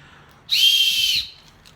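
A single shrill whistle blast, held for under a second, then cut off, with quiet surroundings before and after.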